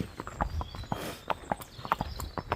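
Horse hooves clip-clop steadily on the ground during a ride, a rhythmic run of close, distinct hoof strikes with no talk over them.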